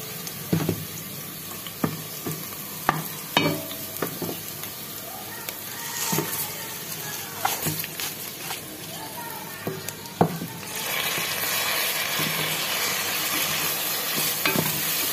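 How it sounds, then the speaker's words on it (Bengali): Onions fry in a pan for an iftar meal, a continuous sizzle growing louder and denser toward the end, broken by sharp clicks and scrapes of stirring, with a running tap in the background. "যখন পেঁয়াজ ভাজতেছিলাম পেঁয়াজটা একটু লাল হতেছিল"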